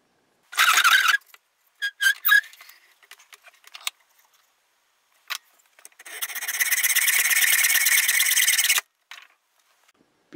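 A saw cuts off excess wood from a whirligig part, with a short burst of sawing and scattered knocks, then a longer steady stretch of rasping strokes close up.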